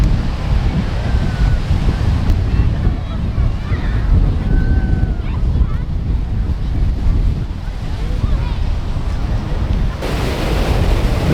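Ocean waves and wind on a beach, a constant loud roar of surf with heavy wind buffeting the microphone throughout and a few faint distant tones above.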